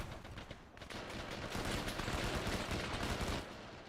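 A grenade blast in the military video game Arma 3, heard as a sudden loud burst followed by a dense, rumbling roar that holds for a few seconds before easing off, with no talking.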